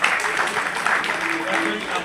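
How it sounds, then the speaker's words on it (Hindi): An audience at an industry dialogue event with a minister present breaks into steady, dense applause that fills the hall at a fairly close distance, with voices mixed underneath. "सदन से जोरदार तालियों को उम्मीद करते हैं।"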